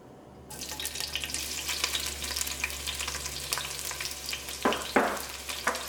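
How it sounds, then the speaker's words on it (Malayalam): Crushed ginger, green chili and onion hit hot coconut oil in a pan for a soya potato curry, setting off a steady crackling sizzle with a few louder pops near the end. "ഈ ചൂടായ വെളിച്ചെണ്ണയിലേക്ക് ചതച്ച് വെച്ചേക്കുന്ന ഇഞ്ചിയും പച്ചമുളകും സവോളയും ചേർക്കാം."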